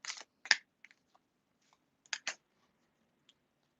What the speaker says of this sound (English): Gonna do a quick shuffle one more time.